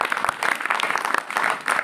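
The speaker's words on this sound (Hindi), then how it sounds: "ताली एक बार बजाओ इसके लिए।" A class of students claps their hands together in a short burst of brisk, dense applause, moderately close, lasting under two seconds with no talking over it.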